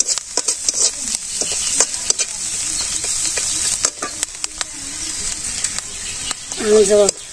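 Ground spices with turmeric sizzle steadily in hot oil as they are stirred and sautéed, a dense hiss broken by scraping clicks, with a brief voice near the end.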